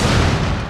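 A frag grenade explodes in Rainbow Six Mobile with a single loud, close, full-band boom that rumbles on briefly and decays.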